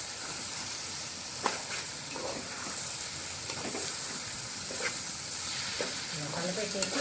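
A spoon stirs spiced egg and drumstick curry in a pan, with soft scraping strokes over a continuous sizzle and hiss, fairly close and without talk.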